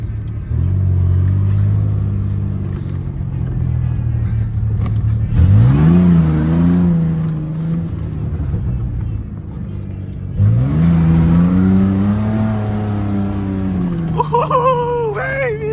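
Worn-out beater pickup truck engine in two-wheel drive, idling with a steady low drone before revving hard twice in rising surges, loud and close, with a voice shouting over it near the end.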